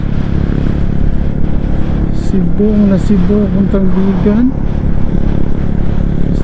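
Steady motorcycle engine and road noise on an expressway ride, a close continuous drone while a rider talks briefly over it.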